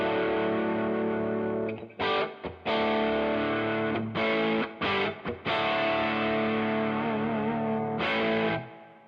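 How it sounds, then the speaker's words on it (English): Overdriven electric guitar chords through an amp modeler set to a Princeton amp with a Tube Screamer ring out with a warm tone and spring reverb tail, played in several strummed bursts with brief pauses, loud and alone. "I got a Princeton model on here with a tube screamer with a bit of spring reverb"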